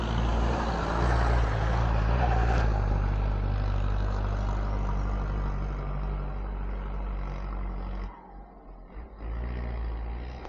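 A Rusi motorcycle climbs a very steep road in San Fernando City, La Union, its engine droning steadily and fairly loud before easing off near the end.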